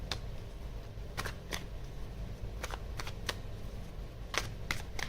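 Tarot cards are handled and laid out at close range, with a series of sharp, separate flicks and snaps spread irregularly over a quiet background.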